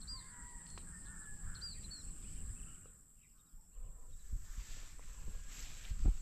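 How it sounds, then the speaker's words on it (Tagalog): Crows, a flock gathering and flying over farmland, caw in short harsh calls at a moderate distance, scattered across the recording over steady insect chirping and outdoor background noise. "Mga uwak yun, oh."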